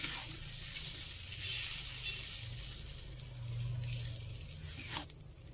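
Fried eggs slipped into a pan of about 100 ml of simmering water for a sweet-spicy soy and green chili dish, giving a steady bubbling hiss with a faint clink near the end.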